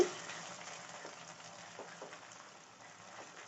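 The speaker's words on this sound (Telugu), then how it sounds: "ఈ అల్లం వెల్లుల్లిపాయ కూడా పచ్చివాసన పోయేదాకా వేపుకోవాలి" Ginger-garlic paste frying in a pan for a mushroom curry, a soft steady sizzle with faint crackles and occasional stirring, quiet and close.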